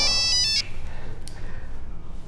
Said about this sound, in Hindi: अब्बा जी का फोन आ गया,